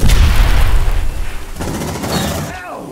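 A grenade blast in the sci-fi shooter Aliens: Dark Descent, a loud low boom that rolls on with rumbling debris and gunfire, while voices shout over the fading roar.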